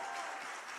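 A television studio audience applauds in a dense, steady wash of clapping that holds at an even level throughout the brief moment, with no voices over it.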